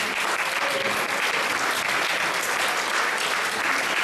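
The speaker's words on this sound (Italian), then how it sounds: "quindi un applauso per i papà presenti" An audience applauds for the fathers present at a Father's Day celebration on March 19 in Riese Pio X, a dense, steady clapping that carries on for several seconds without a break.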